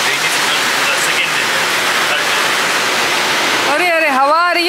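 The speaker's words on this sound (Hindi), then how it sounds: "बाहर ना अच्छा खासा तूफान है, ऐसा ना हो मैं विंडो खोलूँ और पानी आ जाए, क्योंकि बहुत हवा दिख रही है" Heavy rain and wind from a storm outside a window, a loud continuous rushing wash throughout, with a voice speaking over it toward the end.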